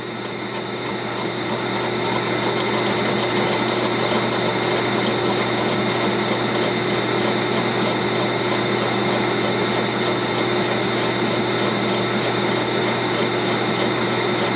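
A repaired Chinese-made Bell and Gossett pump runs on test with a loud, steady mechanical whine and hum that starts up and holds constant.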